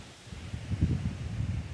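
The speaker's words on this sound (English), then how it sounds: "As you see, we're getting winds." Gusty wind rushing through trees during high winds, a steady low roar that swells and surges in uneven waves, fairly loud and close with no voices.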